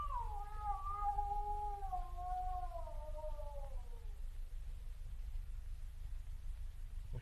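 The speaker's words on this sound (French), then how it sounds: "Oh, c'est un chat." A cat gives one long, drawn-out wailing meow that slides slowly downward in pitch over about four seconds, heard alone over a constant low rumbling hiss.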